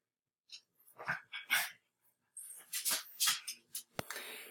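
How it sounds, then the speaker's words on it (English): A small dog barks and yips in a quick irregular series, faint and somewhat distant, during an online webinar, with brief pauses between bursts and no talk. "My dog just showed up."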